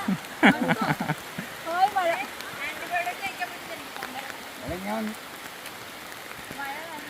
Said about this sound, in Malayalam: നല്ല തകർത്ത മഴ